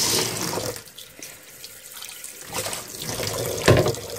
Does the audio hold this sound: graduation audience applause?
no